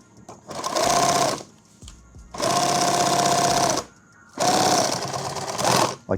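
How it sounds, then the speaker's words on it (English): A sewing machine runs a single line of stitching through tactical bag material in three loud sustained bursts of rapid mechanical whirring, separated by brief pauses. "Sew it together with 1 line of stitching, and then you'll know rather quickly what the capabilities of the material and thread are."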